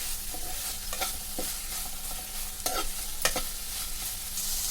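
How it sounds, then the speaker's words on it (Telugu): Mint and curry leaves fry in oil in a pan for mint chutney, giving a steady close sizzle broken by occasional scraping stirs of a spoon, with no voices. "బాగా వేపేసుకుందాం"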